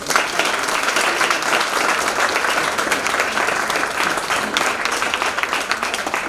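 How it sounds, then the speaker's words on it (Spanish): Sustained audience applause fills a Spanish-language mental health forum hall, steady dense clapping at full level for the whole stretch with no pauses. "Un aplauso ahora para todos ustedes."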